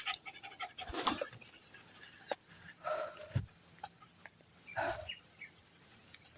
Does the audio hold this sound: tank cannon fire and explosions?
no